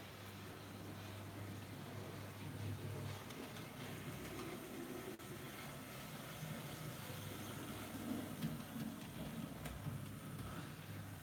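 Model train locomotive, newly bought, running steadily on a track with a continuous low rumbling hum and faint rattle, moderately quiet and unbroken throughout.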